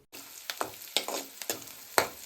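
Onions hiss in hot oil with mustard seeds and cumin for a village-style bottle gourd curry, with a steady close sizzle and about five sharp stirring scrapes of a spoon against the pan.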